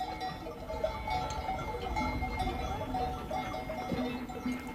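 A flock of sheep walks single file along a mountain pasture, giving a steady, fairly loud jumble of bleats and rustling movement without any talk.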